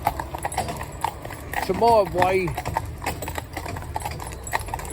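A Friesian filly's hooves clip-clop in a steady rhythm at close range, with a short whinny-like call partway through, while someone talks over the sound.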